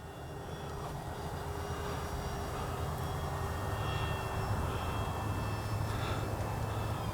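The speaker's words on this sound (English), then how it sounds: "What a great flying plane." A small Kavan Pilatus PC-6 Porter RC model airplane engine hums at a distance, a steady buzzing drone that swells slightly as it passes overhead, with faint wind noise.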